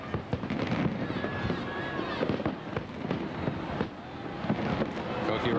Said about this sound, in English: Peter's standing now at his window with the fireworks going off all around him